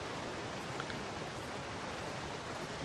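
A waterfall rushes in The Long Dark, a steady, close, broadband roar of falling water with no pauses and no voices.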